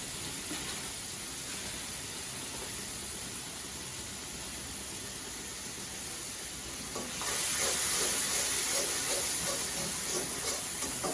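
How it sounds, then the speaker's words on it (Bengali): Spices including ground coriander fry in a pan with a continuous hissing sizzle and scraping stirs, close up; partway through the sizzle flares louder and brighter with steam, and no one speaks. "সব মশলা আমি কষায় নিলাম।"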